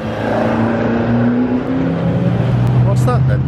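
A Porsche race car drives past at a classic car speed festival, its engine note rising and falling as it rounds the course, with a steady loud roar throughout and people talking over it.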